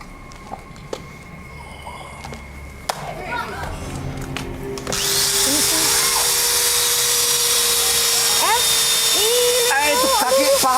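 Power drill in a televised test of invulnerability, first faint taps and clicks, then a sustained high whirring drill motor that runs steadily to the end, with voices and exclaims over it.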